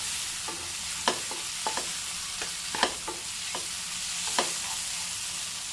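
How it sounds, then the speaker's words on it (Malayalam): Chopped tomato and onion sauté in oil in a pan for a yam curry, a soft steady sizzle broken by a string of sharp spoon-scrape clicks spread evenly through the stretch, close and fairly quiet, no voices. "ആ ടൊമാറ്റോ ഒക്കെ ഇത് സവാളയിൽ കിടന്ന് നല്ലപോലെ ഒന്ന് വഴണ്ട് വരണം."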